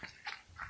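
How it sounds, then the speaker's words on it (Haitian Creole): A dog gives a short, faint whine or yelp, two or three quick soft cries within a moment, with no talk over them. "Moi écoute mon chien."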